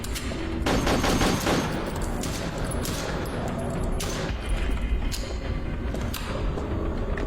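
Gunfire in a haunted hospital horror game, dense, loud and continuous, with repeated sharp shot transients layered over a rumbling thump-laden backdrop throughout.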